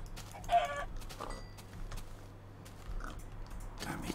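A few short clucks from a chicken in the video game Minecraft, faint and scattered over a low, steady background hum.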